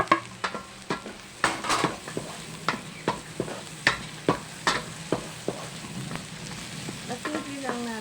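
Carrots stir-fry in a pan with a steady soft sizzle, while a utensil scrapes and taps the pan in a quick irregular rhythm, close and fairly quiet with no talk.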